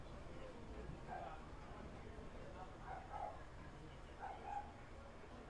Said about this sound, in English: Oh, that's an angry bulldog.